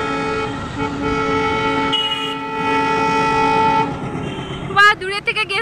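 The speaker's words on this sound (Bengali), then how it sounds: "ও অ্যাকচুয়ালি এটা মাল ট্রেন, ওই জন্যে গুটি গুটি পায়ে এগোচ্ছে।" A slow goods train passes with a sustained tonal rumble and harmonic drone, ending in loud horn-like blasts; a person talks over it.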